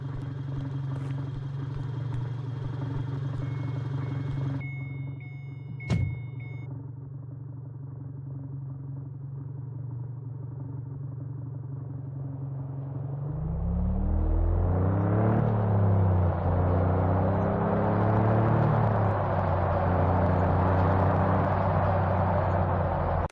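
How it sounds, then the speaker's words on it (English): A loud car engine in the driving simulator game Driving Life starts up partway through and revs hard with a rising, droning roar. Before that, a steadier low hum plays with one brief thud. "That car is very loud."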